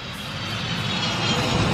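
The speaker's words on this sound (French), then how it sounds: "Il y a du bruit autour de vous. On est près d'un aérodrome." A fixed-wing airplane passes near an airfield, a steady broadband engine roar that swells slightly louder toward the end, continuous and fairly close, with no talk.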